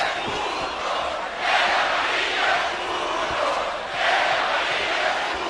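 A boxing arena crowd roars through a bout between Lookmahanak and Arce, a dense, steady wall of cheering that swells louder in two surges.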